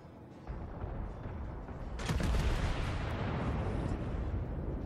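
Deep booming naval gunfire from the Imperator Nikolai I battleship in World of Warships, a sustained heavy rumble that swells into a louder broadband blast around the middle and lingers.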